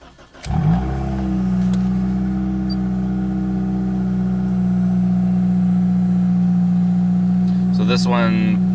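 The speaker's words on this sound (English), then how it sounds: "So this one most likely has an exhaust leak somewhere." Toyota car engine with an exhaust leak cranking and catching, then idling steadily with a loud, close, droning hum and a brief rising whine near the end.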